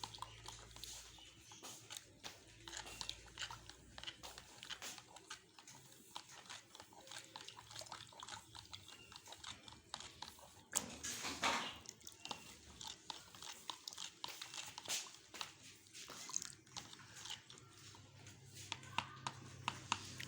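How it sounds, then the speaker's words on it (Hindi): Soft, uneven scraping and wet clicking as Rafhan custard mixture is stirred with a spoon in a bowl, quiet and close, with a brief louder swirl midway. "अब इसको अच्छी तरह से इसमें मिक्स कर लेंगे"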